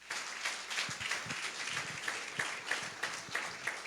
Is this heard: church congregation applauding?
yes